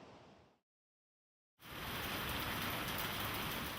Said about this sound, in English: Torrential rains, flooded streets, uprooted trees, widespread destruction.